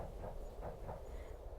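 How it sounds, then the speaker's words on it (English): A train rolls steadily on rails as a soft, low continuous rumble with a faint rhythmic pulse, heard as background ambience for a bedtime story about an old pine night train. "you're boarding the Starlight Express,"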